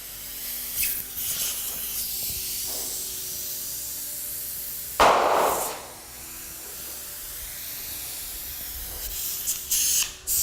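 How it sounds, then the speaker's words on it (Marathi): A cold pressure cooker's whistle lets out a sudden loud burst of hissing steam lasting about a second, set against a low steady background hiss. "थंड कुकर आहे, शिटी वाजते आहे."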